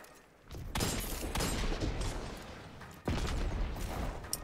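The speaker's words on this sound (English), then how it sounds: "That was a nice rocket, dude." Rocket explosions in the shooter Destiny 2 during a competitive match: two loud, heavy blasts, the second about two and a half seconds after the first, each followed by a dense crackling rumble amid ongoing gunfire-like noise.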